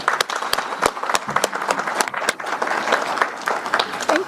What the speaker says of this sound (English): So let's give these candidates a round of applause.